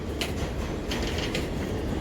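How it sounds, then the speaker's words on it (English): A train rolls past on rails with a steady, loud low rumble and faint rhythmic clatter of wheels running throughout. "you hear the train?"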